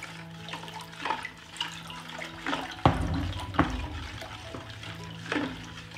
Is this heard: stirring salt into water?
yes